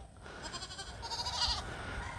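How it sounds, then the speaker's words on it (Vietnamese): Several miniature goats on a farm bleat in short wavering cries, close and fairly loud over outdoor background noise, with no talk. "Công nhận mấy con dê này mấy cái bi nó bự thiệt chứ."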